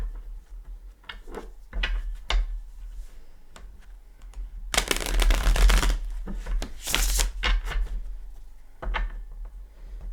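Tarot cards are shuffled in quick bursts of papery riffling and tapping, with short clicks between and two louder shuffles in the middle.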